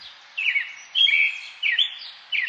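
Birds sing just outside a window in four distinct bursts of bright, warbling chirps separated by short pauses, moderately close and clear over a soft background hush.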